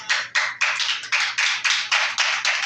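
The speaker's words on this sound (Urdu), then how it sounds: "میں نے تالیوں کا نہیں بولا" An audience claps in rhythmic unison, about ten crisp, evenly spaced hand claps close and loud, alone without talk.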